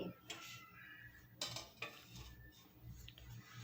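A spoon stirring egg biryani with coriander, mint and whole spices such as cinnamon, cloves, cardamom and bay leaf, scraping and clinking against the pot in faint, close strokes over a steady low background.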